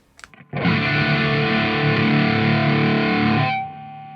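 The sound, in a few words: electric guitar through stacked distortion pedals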